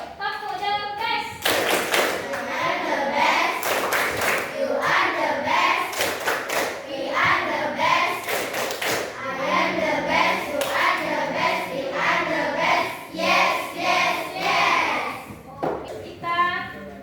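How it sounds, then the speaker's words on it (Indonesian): Indonesian primary-school children in a coding and AI class perform the rhythmic 'tepuk the best' clapping routine for a group. Loud, close patterned claps and thumps run in steady bursts for most of the clip, with children's voices chanting along. "Coba kasih dulu tepuk the best lagi untuk kelompok 8."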